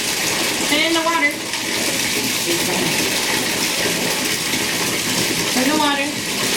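Water running and splashing in a bathtub while a toddler plays with a bath toy, a loud steady gush under a voice and an adult speaking.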